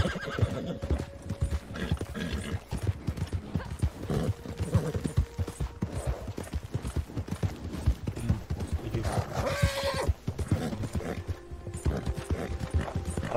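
Horse hooves clip-clop steadily in Red Dead Redemption 2, with whinnies breaking through over a dense game soundscape while players talk now and then.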